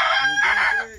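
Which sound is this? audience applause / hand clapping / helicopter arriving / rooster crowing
rooster crowing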